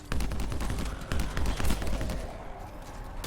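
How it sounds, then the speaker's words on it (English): A sniper rifle in the video game Anthem fires in a rapid string of sharp, close shots. The cracks crowd together in a steady volley that lasts a few seconds. "That's my new sniper rifle"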